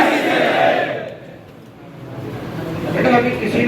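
A crowd at a PCMA rally loudly chants the "Jai PCMA" slogan. Voices swell near the start, dip in the middle, then rise again, with the whole group shouting together throughout.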